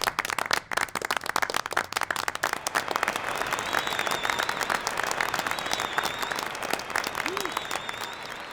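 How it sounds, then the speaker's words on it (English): A graduation audience for a Rutgers communication class of 2021 breaks into sustained applause, dense clapping filling the whole stretch with scattered cheers and voices mixed in. "please rise and join in cheering the SCI graduating class of"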